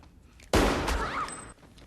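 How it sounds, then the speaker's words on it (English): A single loud gunshot from the film Scream 3 cracks out abruptly, followed by about a second of ringing, echoing report before cutting off. "Cotton shoots Mrs. Loomis"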